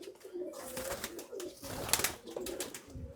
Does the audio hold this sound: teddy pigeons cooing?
yes